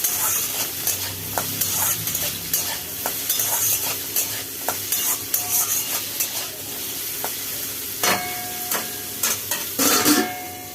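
Potatoes sizzle steadily in hot mustard oil with dried red chillies, while a spoon scrapes and stirs in quick, repeated strokes, ending in a louder clatter against the pan.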